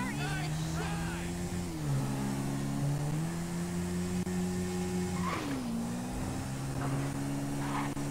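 Car engine in the video game GTA V, a steady droning tone that dips and climbs in pitch as the car accelerates and shifts, running throughout with voices talking over it.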